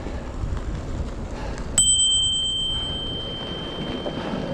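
A bicycle bell on a Cube hybrid e-bike rings once, sharp and close, its bright tone lingering and fading over steady outdoor wind noise on a woodland trail ride.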